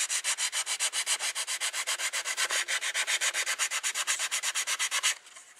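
Sandpaper rubs over wooden stretcher boards out in the bush in fast, even back-and-forth strokes, roughly seven per second, close and dry, before stopping abruptly near the end.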